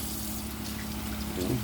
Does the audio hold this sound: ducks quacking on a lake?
no